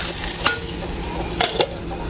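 Steady sizzling of food frying in hot oil, with a couple of brief scraping clatters from stirring utensils.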